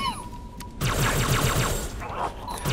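Gunfire in the Halo ODST video game, sniper shots from the Uplift Reserve mission with a rapid burst of game gunfire through the middle, loud and close, with speech over parts of it.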